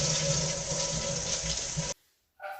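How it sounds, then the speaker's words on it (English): A running toilet flushes with a loud, steady rush of water that stops abruptly, followed by a short silence and a faint trickle as it refills. "Now flush."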